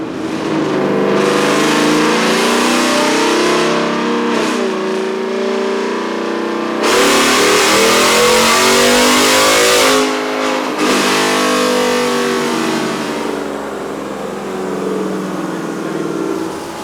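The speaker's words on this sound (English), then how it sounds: "We did it in fourth to try to get more RPM out of it." A 2021 Ford F-150 with a supercharged Coyote V8 and long-tube headers revs hard in fourth gear, loud and close, its engine note climbing, dropping briefly, then climbing again toward the speed limiter.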